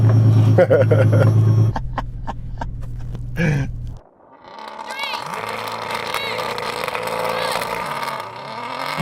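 Race cars in a drag race rev and accelerate, first a loud droning engine with rapid gear-like bursts, then after a brief dip a rising, whining engine roar fills the rest, with excited voices shouting over it.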